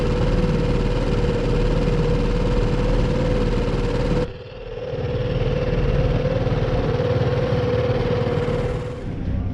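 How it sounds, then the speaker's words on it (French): Boat engine running flat out at full throttle, a loud steady drone with a constant hum that dips briefly partway through, then resumes and fades at the end, with no talk. "On est à fond. On peut pas aller plus vite là. Sinon, le moteur s'étouffe"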